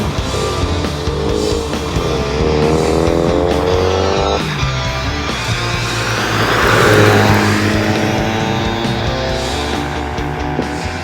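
A 2022 Ford Mustang EcoBoost coupe engine roars at close range, a steady throaty drone that swells into a stronger rev midway, then settles back.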